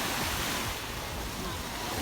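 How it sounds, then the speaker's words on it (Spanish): Caribbean Sea waves break and wash onto Bayahibe beach in the Dominican Republic, a steady broad roar of surf close by with wind buffeting the microphone. "El Mar Caribe. This is the Caribbean Sea, family."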